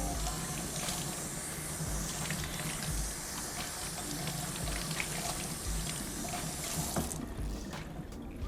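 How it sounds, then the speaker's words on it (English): Fresh asparagus rinsed under a running kitchen tap, a loud steady rush of water splashing continuously for several seconds before easing slightly near the end. "I'm just gonna rinse it off."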